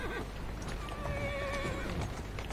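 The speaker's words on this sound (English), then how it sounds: "Shut up, horse." Horse in the video game Assassin's Creed Syndicate gives a long, wavering neigh over a busy game soundscape, with hoof clip-clops mixed in and no talking.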